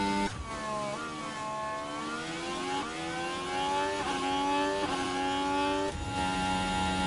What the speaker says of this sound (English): We've got different sounding engines.